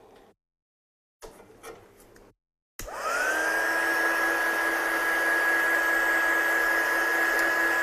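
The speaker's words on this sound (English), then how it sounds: "So let's heat set this one then." Heat tool melting embossing powder on a craft project: a click and brief handling noises, then a steady close whirring blow with a constant tone that holds to the end.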